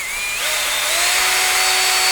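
A power drill whines loudly and continuously, its pitch climbing as the motor spins up, close by and alone, drilling a 1/8-inch hole in an RC car part.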